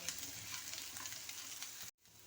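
Ginger frying in oil while being stirred, a quiet steady sizzle with faint scraping, cut off abruptly near the end.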